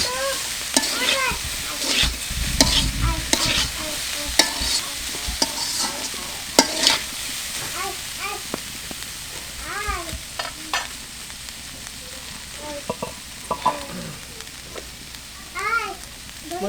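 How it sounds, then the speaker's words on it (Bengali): Winged beans frying in a pan and stirred often, giving repeated scraping strokes over a steady oily sizzle, close and fairly loud. "আর এই ভাজাটাতে ঘন ঘন নেড়ে চেড়ে দিতে হয়।"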